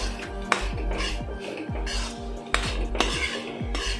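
A metal utensil scrapes and clinks against a pan while mixing cooked restaurant-style mixed vegetables with oregano, close and clear, with a few sharp knocks standing out among steady stirring.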